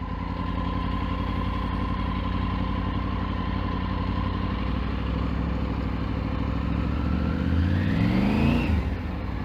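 Triumph Tiger 900 Rally Pro motorcycle engine running steadily at low RPM, a continuous loud drone that holds for most of the stretch, then the revs climb briefly near the end before dropping back.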